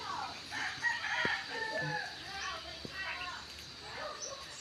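A rooster crows in the distance amid quiet outdoor ambience, with a couple of sharp knocks and faint clucking.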